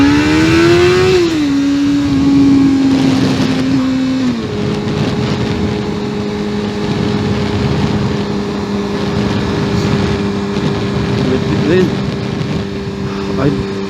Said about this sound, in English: See if we can do some hard accelerating here.